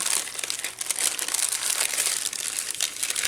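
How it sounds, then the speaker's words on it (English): Wax paper crinkles and rustles continuously as it is pushed into a fabric journal cover pocket, crisp close-up crackling with small irregular bursts. "This is some wax paper I have here, and what you want to do is you want to push this paper in here."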